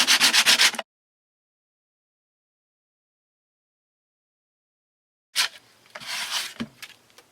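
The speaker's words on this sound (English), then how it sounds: "I'm going to use my sandpaper again and kind of scratch off some of" Sandpaper rubs across a painted wood plaque in short, close, gritty bursts of scratching. A brief rapid flurry comes first, then a long silence, then a few more uneven strokes.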